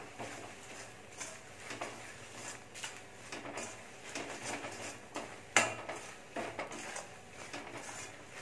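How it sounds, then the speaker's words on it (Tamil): Spoons and utensils clink and scrape against a bowl while salt and spices are mixed for mango pickle, producing irregular close taps with one sharper knock midway. "எல்லாமே சேர்த்து கலந்துருவோம்."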